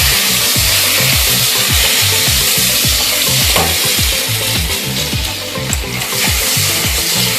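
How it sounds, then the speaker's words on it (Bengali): Whole cardamom, cloves, cinnamon, mace, bay leaf and cumin fry loudly in hot oil, a dense close sizzle with rhythmic scraping strokes of stirring throughout. "ফোড়ন ভাজা হয়ে গেছে।"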